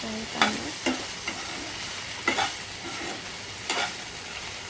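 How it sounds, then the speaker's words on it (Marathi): Okra frying in a pan with onion and spices: a soft continuous sizzle broken by several distinct stirring scrapes, close and unaccompanied by talk. "भेंडी आपली छान अशी फ्राय होऊन जाते"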